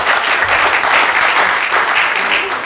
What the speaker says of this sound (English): Let's give another round of applause for our worship team.